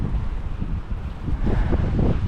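Gusty wind blowing outdoors over a snowy yard during a snowmelt, a loud low rumbling roar buffeting the microphone, steady and close with no speech.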